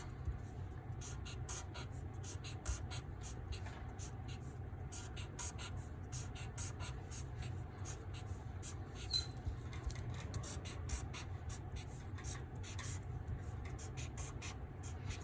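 Pen scratching steadily across paper in short, quick strokes while sketching windows and doors onto a drawing of buildings, quiet and close against a low background hum.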